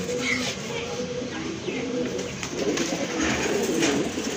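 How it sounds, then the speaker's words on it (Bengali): Pairs of pigeons kept for sale coo in soft, rolling repeated calls close by, with a voice talking faintly in the background. "এখন দেখেন আরেক জোড়া কবুতর এখানে মাশাল্লাহ।"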